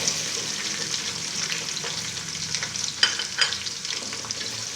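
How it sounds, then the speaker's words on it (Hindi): Onions frying in a pan while being stirred, a continuous sizzle broken by scraping strokes of the spoon, close and moderately loud, with no talking. "अब इसके अंदर प्याज ऐड करेंगे।"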